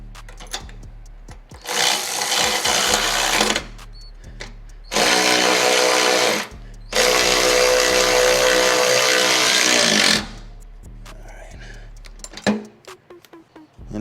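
A power tool tightens a bolt on a Flow Designs rear diffuser fitted to a 2020 Subaru WRX, three loud buzzing whirrs of a few seconds each with brief pauses between, close by, followed by soft handling clatter.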